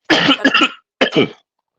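Two close, loud coughs in quick succession, the first longer and rasping, the second shorter, then silence.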